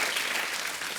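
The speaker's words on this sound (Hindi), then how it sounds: "तो जोरदार तालियां सलमान भाई के लिए और कैटरीना मैम के लिए।" Studio audience at a comedy show breaks into loud, dense applause, a brief continuous burst of clapping.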